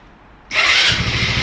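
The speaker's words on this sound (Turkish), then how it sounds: "Bir daha basalım bakalım marşa." A Daelim S3 250 scooter with an unstable idle is started with its electric starter: near-silence, then an abrupt loud burst at about half a second that settles into a steady, rough engine noise.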